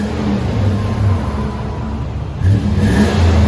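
A Lexus GX 470 4.7L V8 SUV engine idles with a steady low rumble through its modified exhaust, then revs up briefly near the end, growling loudly and close by.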